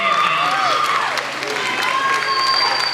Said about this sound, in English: Applause for the outstanding art